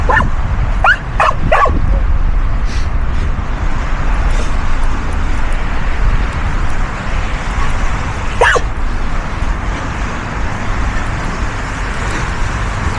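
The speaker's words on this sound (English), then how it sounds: "When you own a Spaniel, you never know quite what you're going to get in terms of barking." A spaniel gives a few sharp high yips and barks with a whimper, over a steady loud rumble like a car or engine running nearby.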